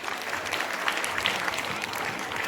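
Steady applause from a crowd at a school Republic Day celebration, a dense crackle of many hands clapping that holds at an even level throughout.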